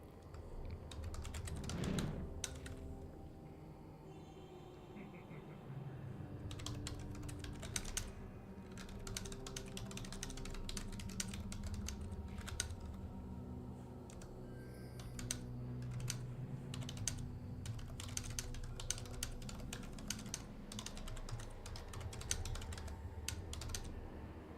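Steady typing on a computer keyboard at a PC streaming World of Warcraft, a dense run of close key clicks with uneven bursts and short pauses over low game background sound.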